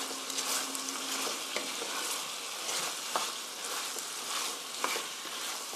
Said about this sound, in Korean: 마늘, 갈릭, 어니언, 양파, 캐비지 넣으면서 섞어주세요.